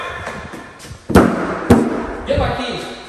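Weight plates clank onto a rack in a gym, two sharp, loud slams about half a second apart, followed by a scraping clatter, with voices around.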